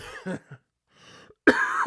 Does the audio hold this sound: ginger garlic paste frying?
no